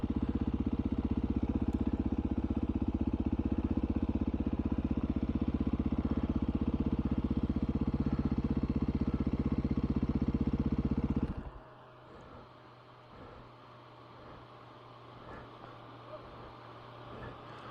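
A 2021 Beta 500 dirt bike engine runs loud and steady up close on a rough Colorado mountain trail, then cuts off abruptly, leaving quieter outdoor ambience with faint rustling.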